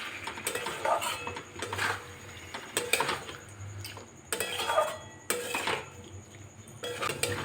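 Marinated soybean is stirred in a frying pan, a spoon scraping and clinking against the metal in repeated strokes over a low, faint sizzle, close up and without talk.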